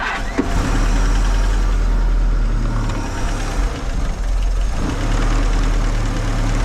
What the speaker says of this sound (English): There'll be enough in the carb to start it, and it'll probably cut out when the air gets drawn up to it.